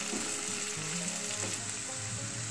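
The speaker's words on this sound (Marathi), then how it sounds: "आता कांदाही आपल्याला तेलात छान असा परतवून घ्यायचा आहे।" Onion sautéing in hot oil for a spiny gourd dish, giving a loud, steady close sizzle with occasional soft stirring touches and no voices.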